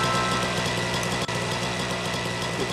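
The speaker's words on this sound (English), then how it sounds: "Lawnmower." A lawnmower engine runs in Scribblenauts Unlimited, a continuous buzzing, steady drone held at even loudness with no pauses.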